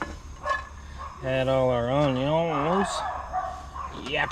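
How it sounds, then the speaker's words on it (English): Small dogs yapping and whining at a spring campsite in Deception Pass State Park, a drawn-out wavering yelp among short yips, fairly close, with no talk over it. "Yapper dogs."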